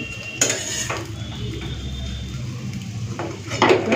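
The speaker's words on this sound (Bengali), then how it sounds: "আওয়াজটা শুনেই বুঝতে পারছেন কতটা মচমচে হয়েছে" Crispy fried small shrimp rattle and scrape in a metal pan, with clattering utensil strikes and a steady noisy background.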